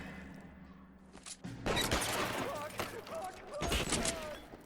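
Gunfire in LA Noire: a burst of rapid shots starts around 1.5 seconds and continues as loud crackling volleys to the end, with a second heavy burst near 3.7 seconds, mixed with game ambience.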